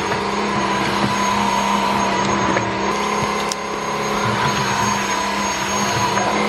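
A Redkey W12SE wet floor cleaner runs steadily with a loud motor whine and brush whir, a constant close drone with no voices.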